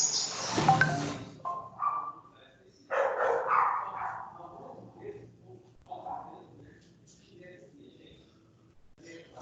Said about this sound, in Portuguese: Tem um tanto de cachorrinho ali que tá aqui embaixo.